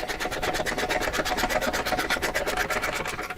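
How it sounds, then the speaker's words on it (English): A 5/8 ratchet wrench tightens the seat nuts on a motorcycle with a CIRO ASR seat, giving a rapid, steady run of close raspy ratcheting clicks that carries on without a pause. "I really recommend getting a ratchet wrench for this. It's going to be a 5/8, but you slip that on over the top and we can just ratchet these down."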